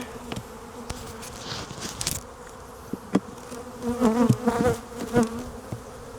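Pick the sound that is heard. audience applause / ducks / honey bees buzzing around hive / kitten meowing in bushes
honey bees buzzing around hive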